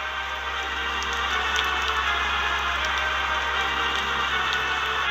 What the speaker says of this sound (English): Rain pelted down onto the island of Sodor